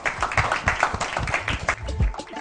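A TV game show studio audience applauds in a lively, crackling burst of clapping that runs throughout, with a voice faintly present underneath.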